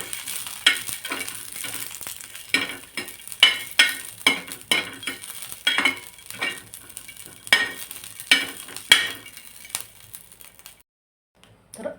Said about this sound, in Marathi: आता हे मिरच्या आधी आपण भाजून घेऊ। थोडंसं तेल देखील टाकायचं मिरच्या भाजता वेळेस